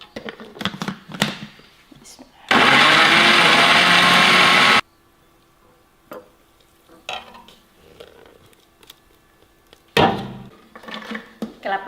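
A kitchen blender grinding spice paste for a beef tripe curry, running loud and steady for about two seconds before cutting off abruptly, framed by clinks and rustles of kitchen work.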